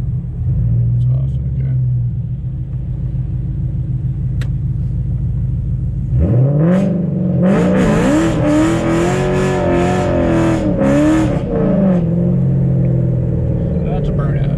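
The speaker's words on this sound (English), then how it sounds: "That's a burnout." A car does a first-gear burnout on a line lock, beginning with a deep idle rumble. It then bursts into a loud, revving roar with pulsing engine surges and tire noise that runs to the end.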